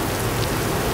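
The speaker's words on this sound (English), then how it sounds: "this rain ain't shit, bro." Steady rain falling in a city, a dense, even hiss of drops with no break, fairly close and filling the whole moment.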